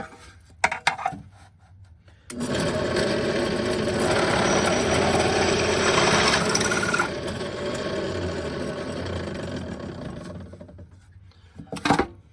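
A loud, steady mechanical whine and grinding of a power drill boring through a metal guitar amplifier chassis runs for about eight seconds, with a few sharp clanks before and after.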